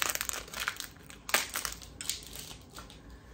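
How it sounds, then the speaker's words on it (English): Protective plastic film peeled and crinkled off a new security camera, a close, scratchy crackling with a few sharper tears, quiet and alone with no talking. "Take off this protective plastic."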